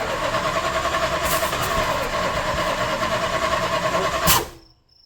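A Plymouth Fury's 383 V8 runs after carburetor and timing work, a loud rough steady idle with a brief rev near the end before the engine cuts off into silence.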